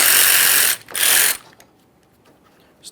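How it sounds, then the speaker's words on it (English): A ratchet with a 10mm socket loosens a mounting bolt on a truck battery hold-down bar, giving two quick bursts of loud, close clicking before falling quiet. "Use our 10mm, we're going to loosen this one first"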